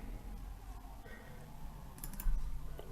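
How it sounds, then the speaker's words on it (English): A computer mouse clicking the Create button in the Unity editor, heard as a few light, close clicks over a quiet background hum, with a slightly louder cluster of clicks near the end. "So I'll click Create."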